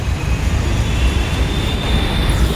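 Metro train rumbling steadily at Kurar station, a loud continuous low roar with a faint high whine running throughout.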